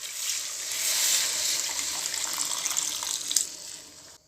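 Two cups of water poured into a cooking pot for a fish curry, a loud, close continuous splashing rush that gradually eases off.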